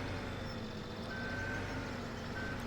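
A truck in Farming Simulator 17 backs onto a trailer at a winter construction site, its reversing alarm beeping steadily over a constant low engine rumble.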